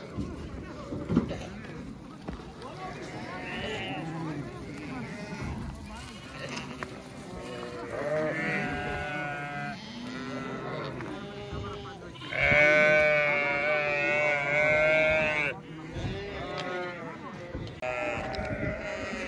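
Several sheep bleat repeatedly as they are loaded up to be taken away, some close and loud, while people talk over and between the calls.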